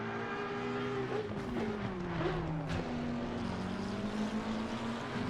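Ferrari 296 GT race car with a 2.9-litre twin-turbo V6, chasing an Audi R8 LMS at the Red Bull Ring, its engine droning loud and steady with pitch sweeping down and back up across shifts throughout.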